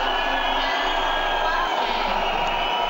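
An ice rink crowd at the 2006 European figure skating championships in Lyon reacting to ice dance free dance marks, a steady loud wash of murmuring and whistling voices throughout.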